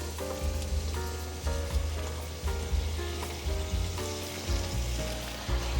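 Lotus root stir-fried in a pan with seasoning sauce and stock, a steady close sizzle with repeated scraping and tossing strokes of the spatula at a regular rhythm, no voices.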